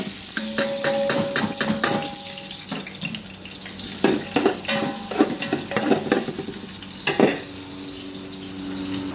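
Chicken wings sauté in a hot pan, a steady sizzle broken by repeated scraping and stirring strokes, with a few sharper clanks of the utensil against the pan.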